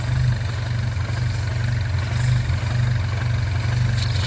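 A MINI Cooper N18 engine fitted with a metal valve cover idles steadily and evenly, a close, constant low hum with a faint rhythmic pulse and no voices.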